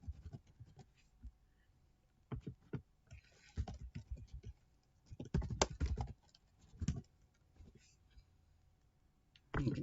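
Keys on a computer keyboard click in short irregular bursts during sign-up for an online account, close and fairly soft, with pauses between runs of typing and no one speaking.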